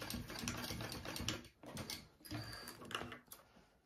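A home sewing machine top stitches one side of a triple-zip crossbody bag, running in quick bursts of close mechanical needle clatter with brief pauses between.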